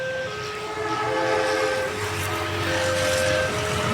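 The Brantas passenger train rumbles loudly and continuously close by at level crossing JPL 92A in Sukomoro, with a sustained horn tone over the wheel noise.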